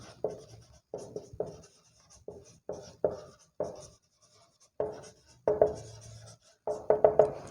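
A definition being written on a board in a mathematics class, heard as close, scratchy bursts of strokes separated by short pauses, with no voices.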